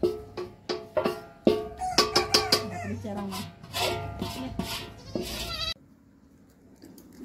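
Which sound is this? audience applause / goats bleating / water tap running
goats bleating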